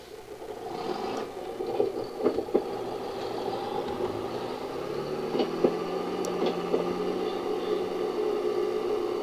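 A John Deere 4955 tractor idles nearby on a farm, giving a steady, low mechanical drone with occasional light clunks and rattles over the top.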